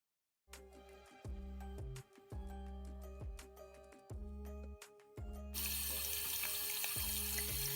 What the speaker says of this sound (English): Now I'm going to just rinse out with cold water until the water goes clear